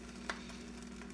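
Bologna frying in a pan, a soft continuous sizzle with faint crackles over a low steady hum, quiet and close with no talking.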